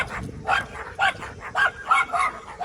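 A tiny little dog yips in short, sharp bursts, about five quick barks spaced across a couple of seconds, close by on a neighborhood street in Sebring, Florida.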